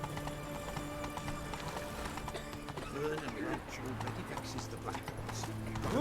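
Hooves of Roach, the horse in The Witcher 3: Wild Hunt, beat out a fast, continuous galloping clip-clop beneath game music, with a brief whinny and someone talking over the ride.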